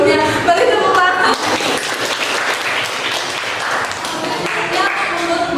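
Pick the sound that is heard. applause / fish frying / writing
applause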